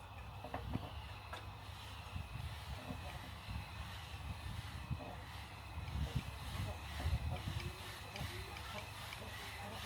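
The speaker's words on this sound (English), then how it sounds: "I'm gonna spin the motor over for the first time" A Toyota 1JZ engine swapped into a BMW E36 is cranked over for the first time, giving a steady mechanical whirring drone for about ten seconds at moderate loudness with a few louder bumps.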